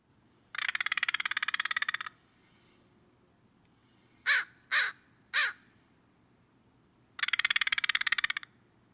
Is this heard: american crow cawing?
yes